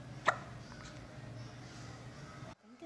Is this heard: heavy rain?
no